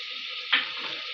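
Ground spices with ginger garlic paste sizzle and fry in a pan, a steady close hiss with a brief sharper burst midway as the mixture is stirred.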